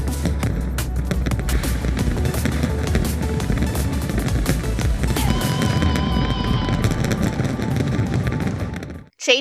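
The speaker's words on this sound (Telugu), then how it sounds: "కౌంట్డౌన్ పూర్తి కాగానే సిడ్నీ హార్బర్కు సమీపంలోని వంతెనపై బాణసంచా రివ్వున ఎగిసింది." New Year fireworks burst over a bridge near Sydney Harbour, a loud, dense, continuous barrage of crackling pops and booms with no gaps, cutting off abruptly at the end.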